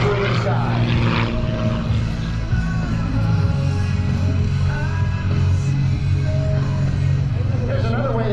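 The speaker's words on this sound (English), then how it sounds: "using the top of the engine, as well as the generating energy of the propeller to put that airplane through the sky" A propeller airplane performs aerobatics at the Boundary Bay Airshow, its engine droning loud and steady with a shifting pitch as it maneuvers, while a commentator talks over it throughout.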